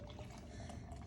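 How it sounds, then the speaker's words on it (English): Juice poured from a container in a steady, faint liquid stream with a soft trickling, splashing texture, heard alone and briefly. "So we're just going to pour it in."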